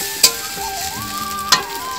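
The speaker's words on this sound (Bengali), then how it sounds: "তো এখন দেখো তোমাদের দাদা ভাই বড়া ভাজছে" Lentil fritters with bottle gourd flowers fry in hot oil. They give a steady close sizzle, broken by two sharp brief clicks.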